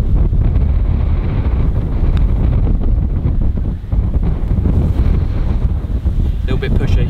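Strong wind buffets the microphone outdoors during a winter league match, with a steady, loud roaring rush that stays constant throughout and no clear voices.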